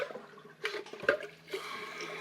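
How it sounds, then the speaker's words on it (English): Water rushes through a TOTO Aquia IV toilet on its small flush, then settles into a steady refill hiss, close and moderately loud with no voices. "Let's try the small flush and make sure it works"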